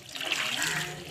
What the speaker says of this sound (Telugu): కొద్దిగా ఒక గిన్నెడు కొద్దిగా నీళ్ళు వేస్తుంది.